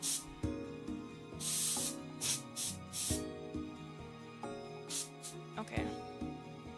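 A can of compressed anti-dust air sprays in several short hissing bursts while a GameCube and Game Boy Advance SP are cleaned, loud and close over steady background music and a voice.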